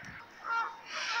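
Swans at a pond give two short honking calls a moment apart, moderately near and fairly faint.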